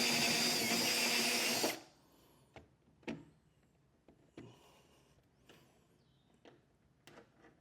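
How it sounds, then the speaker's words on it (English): A drill whines loudly and steadily for about two seconds while drilling out holes for a B&W Turnoverball underbed gooseneck trailer hitch in a 2023 Chevrolet truck bed, then stops, followed by scattered clinks and taps of metal parts. "So I'm going to get these drilled out,"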